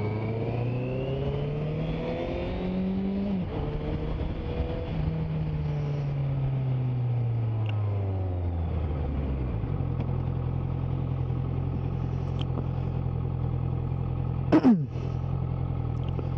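A motorcycle rides along a road in cold weather in Québec, its engine droning steadily close to the microphone with rising and falling pitch as it accelerates and shifts, under constant wind rumble with a brief clunk near the end.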